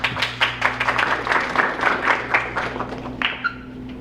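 An audience at a 2022 high school French honor society induction ceremony gives a round of applause for the performances, a loud, close burst of quick overlapping claps that thins out near the end.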